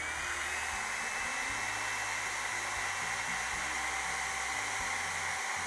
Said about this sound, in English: I turn on the hair dryer